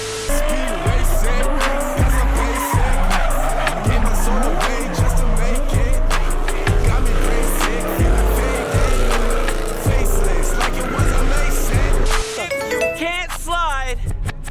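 A widebody Subaru BRZ slides with loud, sustained tire squeal over a roaring engine, the screech rising and falling in repeated bursts, with a brief voice near the end.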